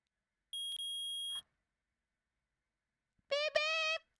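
A metal detector in the Phoenix Wright Ace Attorney video game beeps twice: first a steady electronic tone for close to a second, then after a pause a second richer buzzing beep, both crisp and isolated.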